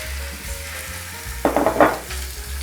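Cod fillet cooks gently in an oiled pan with garlic and shallots, making a soft continuous sizzle that swells briefly into louder crackling as the fish is moved, with no voices.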